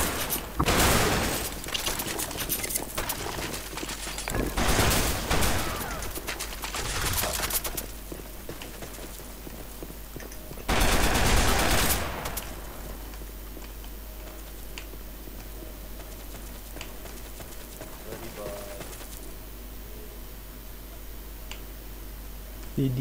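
Gunfire in an online shooter game comes as several loud bursts early on and one more near the middle, followed by quieter ticking sounds, while people talk.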